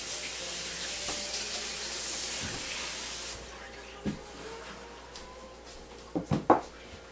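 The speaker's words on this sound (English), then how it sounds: "so use cold water and wet it all the way around the edge" Cold water runs from a kitchen tap in a steady hiss for a few seconds and then stops, followed by faint handling noises and a few soft knocks while making an apple pie.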